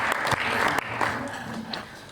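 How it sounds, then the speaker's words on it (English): Audience applause in a congress hall, a dense steady round of clapping lasting throughout at moderate loudness, with a few sharper claps standing out and a faint murmur of voices beneath. "a loud round of applause, please"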